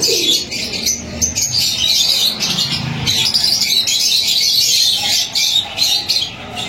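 Pigeons, a pure Ferozpuri breeder pair with the female sitting on eggs, at a busy Karachi bird market, cooing and chirping amid dense bird chatter and flapping throughout.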